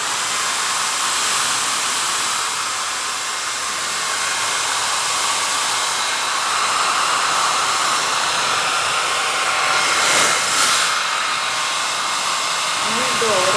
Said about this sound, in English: Blow dryer here. Plug her in. Just a high heat to really get that to penetrate in